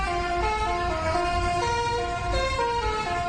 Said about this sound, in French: Une soixantaine de tracteurs qui klaxonnent, vous l'entendez